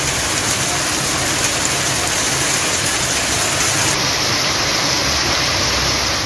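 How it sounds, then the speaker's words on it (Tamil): Heavy rain falls over the city of Karur with water streaming across the roads, a dense, continuous, loud hiss of downpour with no distinct thunder or voices. "கரூர் மாநகரில் சுமார் 1 மணி நேரமாக இடியுடன் கூடிய கனமழை பெய்ததால் சாலைகளில் தண்ணீர் பெருக்கெடுத்து ஓடியது"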